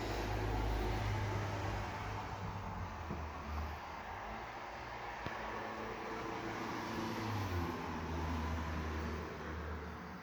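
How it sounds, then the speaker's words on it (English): Car traffic on Terra Nova Street in Pacifica comes through an open bedroom window as a steady, low roadway rumble with a soft hiss, continuous for the whole stretch and fairly distant. "As you can see, you hear some car noise"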